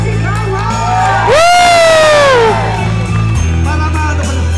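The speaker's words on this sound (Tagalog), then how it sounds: "Palakpakan na may halos sigawan!" Loud, close crowd cheering and shouting, with one long high whoop that rises and falls over the din before the noise drops back to a lower steady murmur.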